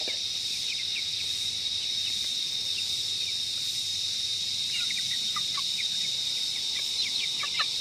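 Soft peeping and clucking from small chicks scattered over a steady background hiss of insects, continuous and fairly quiet throughout.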